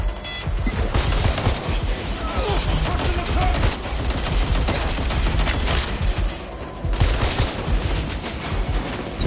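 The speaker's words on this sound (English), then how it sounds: "Taking fire!" Dense, continuous gunfire from Watch Dogs: Legion, rapid automatic bursts and impacts packed together and loud throughout the stretch, with no pauses.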